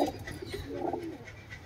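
Soft pigeon cooing from a red, clipped-wing pigeon being lured during a pigeon-catching session, a low murmuring coo swelling briefly then fading, heard fairly close over faint outdoor background.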